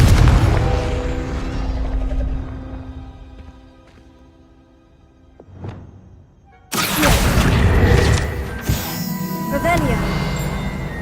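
A Confringo spell explosion in the video game Hogwarts Legacy: a sudden loud blast that bursts in after quieter effects and a brief whoosh, followed by a dense, sustained roar and crackle, with a voice present.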